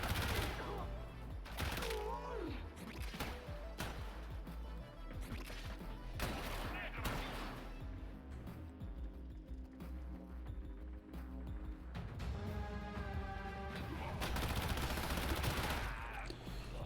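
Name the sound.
gunfire in video game Warframe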